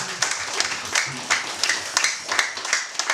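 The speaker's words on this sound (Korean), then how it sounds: "박수 한번 칠까요?" A church congregation at a New Year's Eve service claps together, a moderate, dense patter of many hands with irregular surges, heard in a reverberant hall.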